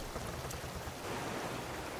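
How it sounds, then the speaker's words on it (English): Rain in the survival video game Raft, falling as a steady, even hiss of droplets with a soft watery wash underneath, constant and fairly quiet. "It's raining."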